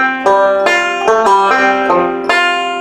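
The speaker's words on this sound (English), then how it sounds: "So that first measure of F lick number 1 sounds like this." A short Scruggs-style banjo lick in C, bright and close, with quick successive plucked notes and a smooth pull-off note change in the middle.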